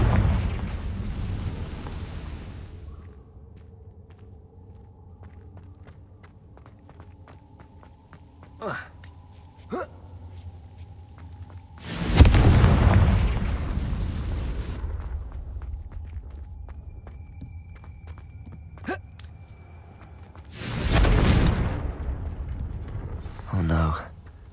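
Two heavy blasts of the Confringo fire spell in Hogwarts Legacy, each a loud, broad burst with a rumbling tail, set apart by a quieter stretch of faint footsteps and small clicks, with a voice speaking at times.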